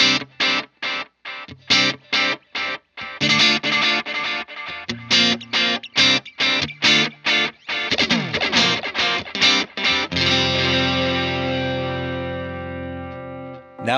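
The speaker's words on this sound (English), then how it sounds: "For the Echo, this is a nice little crunch at the end of our repeats." An electric guitar runs through an Alexander Space Force reverb and a Rewind Echo pedal with crunchy repeats. Loud rhythmic chord stabs give way to a long, shimmering, washing tail, with no talking.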